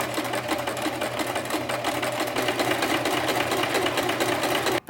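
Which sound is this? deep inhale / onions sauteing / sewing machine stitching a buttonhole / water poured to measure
sewing machine stitching a buttonhole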